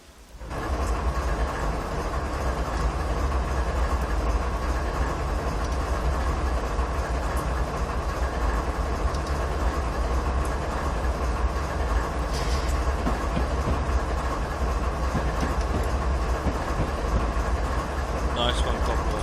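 A BNSF ES44DC diesel locomotive hauls a train over Stevens Pass in Train Simulator 2015, giving a steady engine drone with a low rumble throughout, fading in at the start.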